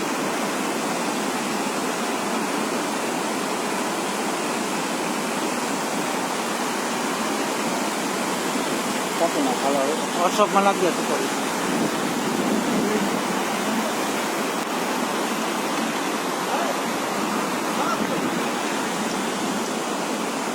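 Heavy rain and storm in Baroda, India, pouring as a dense, steady roar of water that stays loud and unbroken throughout, with a brief faint voice partway through.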